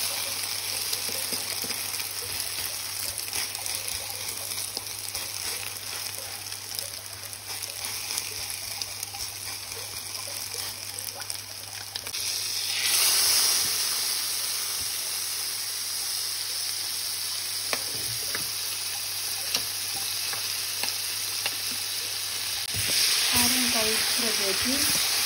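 French toast pieces fry in a pan with a steady close sizzle and hiss, the level rising briefly partway through as if the pieces are moved or stirred.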